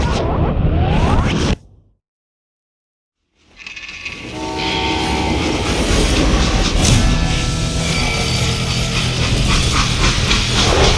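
A steam-era freight train in the Western shooter Call of Juarez: Gunslinger: dense rumbling and clattering of rail cars with horn-like tonal blasts, loud and continuous after a brief silent gap near the start.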